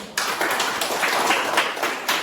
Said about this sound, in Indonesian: Semuanya tepuk tangan dulu untuk kelompok 1.